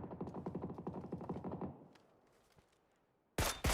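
Rapid gunfire in a competitive video game tournament match, a dense burst of repeated shots followed by a decaying tail and quiet, then a sudden loud crack at the end.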